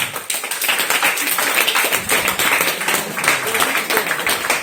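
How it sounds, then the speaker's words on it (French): A hypnosis show audience breaks into dense, steady applause, many hands clapping at once in a continuous loud roar that lasts the whole stretch. "On va te faire un tonnerre d'applaudissements"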